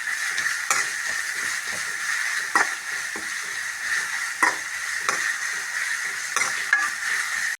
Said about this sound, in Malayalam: ഇഞ്ചി വെളുത്തുള്ളി പേസ്റ്റ്, നന്നായിട്ട് ഫ്രൈ ആവണം.